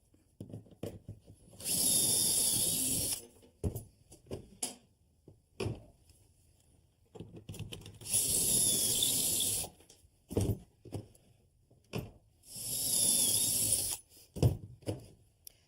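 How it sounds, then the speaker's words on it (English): A power drill whirs in three steady bursts of about two seconds each, boring pocket holes in boards held in a jig, with short clamping and handling clicks in the pauses between. "Put the wood in my jig, clamp it, drill a hole."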